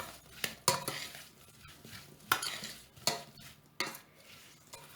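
Spoon stirring a cinnamon bun filling of ground cinnamon and water in a pot, with repeated sharp scrapes and knocks against the metal at an uneven rhythm, close and moderately loud, no talking.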